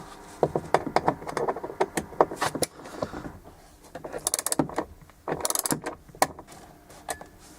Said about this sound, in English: behind the passenger airbag, remove these 2 bolts. It's a Torx T25.